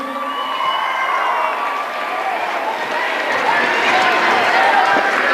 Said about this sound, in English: Let's hear it for Brendan Coleman.